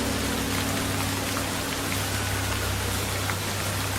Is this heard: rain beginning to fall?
yes